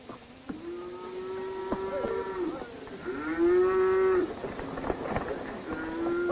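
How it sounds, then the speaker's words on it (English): Cattle newly arrived from western ranches moo repeatedly at a feedlot, several long drawn-out calls rising and falling over a steady background hum, close and loud. "These cattle have just arrived from ranches in the west."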